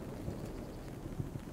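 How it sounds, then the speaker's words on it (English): Thunder rumbling in the tactical shooter game Ready or Not, a low, steady roll with a few soft swells over rain-like noise and no talking. "Oh, there's some thunder."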